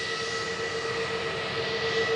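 An EasyJet passenger jet taking off at Glasgow Airport, a steady broadband engine roar with a thin whine running through it, heard from a distance without pause and with no talking.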